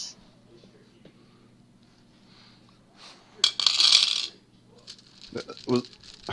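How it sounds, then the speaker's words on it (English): A handful of dice clatter briefly onto a tabletop as they are set aside during a role-playing game, a bright rattling burst followed by a few lighter clicks and soft voices. "me setting aside dice while I look for my d4s"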